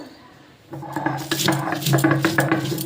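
Green chilies being ground with salt into a paste, starting quiet then turning into rhythmic knocking and scraping of stone against stone for the last two seconds, close and fairly loud.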